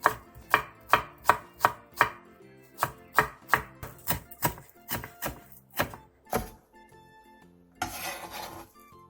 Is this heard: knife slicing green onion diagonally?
yes